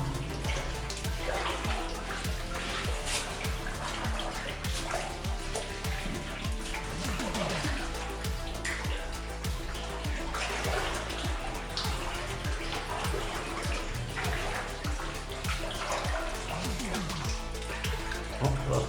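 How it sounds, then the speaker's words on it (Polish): Continuous splashing, trickling water fills an echoing mine adit, once used for uranium ore prospecting, with dense drips and running water throughout and a voice speaking faintly underneath. "Fajnie wszystko tu okapuje się"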